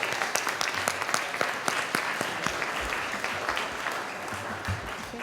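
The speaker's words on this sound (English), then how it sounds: "Let's clap it up." A crowd at a media awards ceremony applauds steadily, many hands clapping at once, fairly close and sustained for several seconds.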